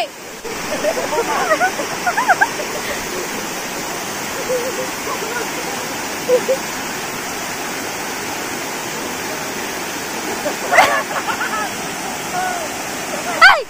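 Ghaghkocha Waterfall in Purulia pours in a steady broadband rush of falling water, with brief splashes and people talking and calling out over the constant roar.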